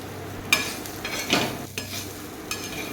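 A spatula scrapes and stirs dry roasted grated bitter gourd around a pan, with a few distinct scraping strokes and light clatter over faint background hiss.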